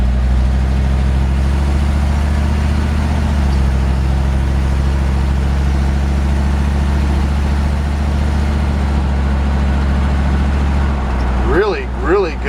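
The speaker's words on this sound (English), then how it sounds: "I'm just cruising along talking to you guys like you're riding in the truck with me right now." A 1951 Ford F1 pickup truck cruises along with a steady, droning mid-low engine hum and road noise, loud and constant, while someone talks over it and more clearly near the end.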